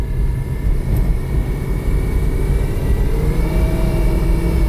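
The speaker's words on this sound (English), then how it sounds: "Now I'm in third. So I'll accelerate a little bit more." A Ford Explorer with a slipping 5R55W automatic transmission accelerates in third gear, giving a steady, fairly loud engine drone whose pitch climbs gradually, with no talking.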